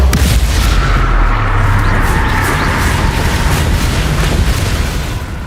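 Bombarda spell explosion in the video game Hogwarts Legacy, a loud, heavy boom that rolls into a sustained rumbling roar and tapers off only slightly at the end.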